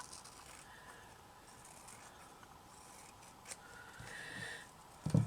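Scissors snip quietly around paper butterflies, soft close-up cuts and rustling paper with a louder clack near the end.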